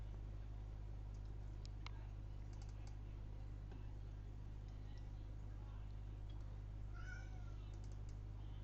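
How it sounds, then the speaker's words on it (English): A cat meows faintly a few times in the background behind a steady low hum and soft keyboard typing, distant and intermittent. "it is cruel listening to your cat in the background"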